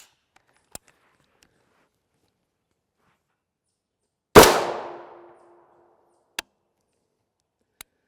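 A single sharp rifle shot from a 20-inch barrel firing M855A1 rounds at a steel armor panel, a loud crack with a short ringing decay, surrounded by a few faint distant clicks and pops in otherwise quiet air.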